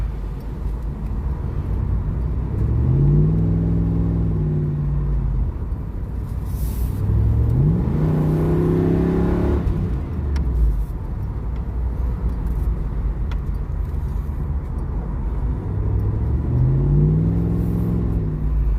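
A deep LT1 V8 engine in an F-body car with its intake snorkel removed rumbles steadily, rising into a few loud revs that swell and fall back, heard close up with constant low throbbing underneath.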